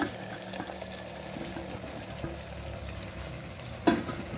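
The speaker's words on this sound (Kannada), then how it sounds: "ಈಗ ನಾನು ಬೇಯಿಸಿಟ್ಕೊಂಡಂಥ ಮಾಂಸವನ್ನು ಇದಕ್ಕೆ ಹಾಕ್ಕೊಳ್ತೇನೆ." Boiled chicken, cooked with salt and turmeric, fries in a coconut oil tempering for chicken sukka, giving a steady close sizzle with stirring scrapes throughout and a sharp clatter near the end.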